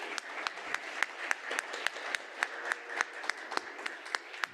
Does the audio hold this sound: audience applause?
yes